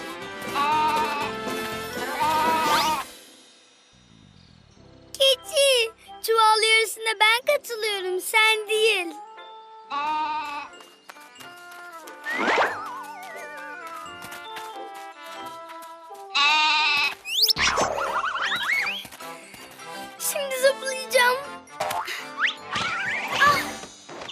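Repeated loud goat bleats from a cartoon, some long and wavering, mixed with bouncy cartoonish sound effects and jingles, with brief pauses between bursts.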